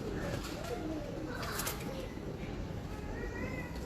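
Soft pigeon coos repeat on a Lahore rooftop among steady outdoor background noise, with occasional voices murmuring nearby.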